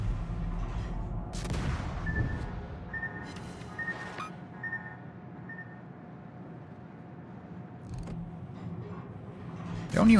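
Naval gunfire from World of Warships, a series of heavy booming shots spread through the stretch amid a dense, rumbling battle bed, with mechanical tones and short beeps over it.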